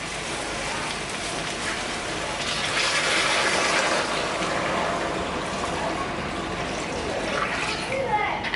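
Water and stock poured into a pan holding softened leeks and garlic for potato and leek soup, a steady broad splashing gush running throughout at moderate level with no talk.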